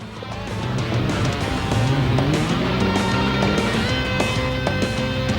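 Malcolm Wilson's Ford Escort Cosworth rally car runs at speed, its engine roaring loud and steady with rising and falling revs, close by and continuous.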